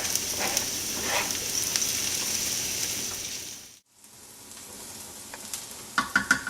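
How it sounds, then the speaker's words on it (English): Garlic frying in a pan with onions, a steady close sizzle that breaks off briefly midway, then resumes quieter with a few stirring clicks and scrapes near the end. "now you add your garlic"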